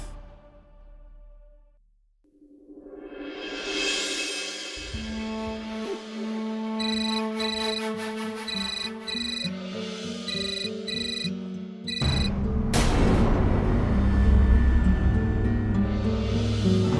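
A phone ringtone plays a repeating electronic melody, moderately loud and close, its pattern cycling several times and growing fuller and louder toward the end, with no talk over it.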